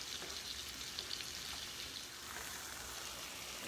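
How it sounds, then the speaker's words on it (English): Rice fries in a skillet as it is stirred, a steady bright sizzle and crackle that continues evenly at low to moderate level with no voices. "Stir in my rice, because we don't want burnt rice."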